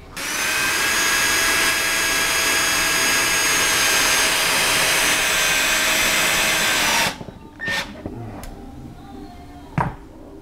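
A standard power drill drilling into plastic wood whines steadily at high speed for several seconds, then stops, followed by a few short clicks and knocks.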